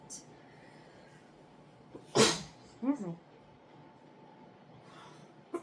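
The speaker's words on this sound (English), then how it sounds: "Maybe you just sneezed." A single sharp, close sneeze bursts out, followed by a short breathy vocal sound, over a quiet background.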